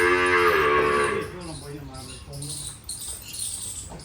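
Kankrej cows moo on a farm: one loud, close, drawn-out moo fills the first second, followed by quieter lowing and scattered farmyard noise.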